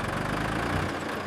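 A tractor engine runs in a steady, dense, low rumble close by, with no talk over it.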